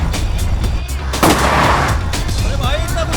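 Gunshots crack out in a short burst with a loud blast in the middle, over a busy rumbling background with some whistling, from a Hindi comedy film action scene.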